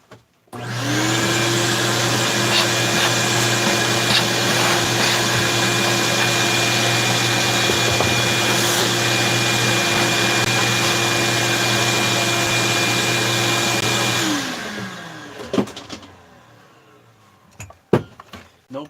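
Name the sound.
vacuum cleaner running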